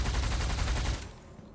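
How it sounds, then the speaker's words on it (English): Automatic pistols fire in rapid succession in a roguelike shooter game, a fast, even burst of close, punchy shots that stops abruptly partway through. "Look how fast I shoot with my pistols now"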